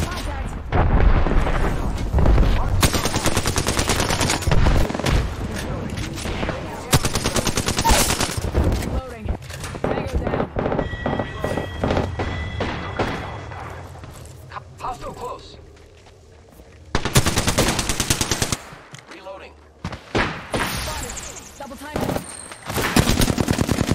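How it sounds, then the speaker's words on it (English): Bangalore's air strike in Apex Legends Season 2 lands as a heavy barrage of loud, rapid booming blasts that come in clusters with short lulls, alongside gunfire, with game voice lines spoken over parts of it. "Air strike on."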